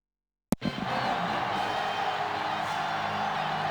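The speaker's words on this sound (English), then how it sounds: "As the crowd continues to file in" A stadium crowd murmurs and cheers steadily as it files in before a Chargers at Raiders football video game. The noise starts abruptly after a moment of silence and then holds as a continuous roar.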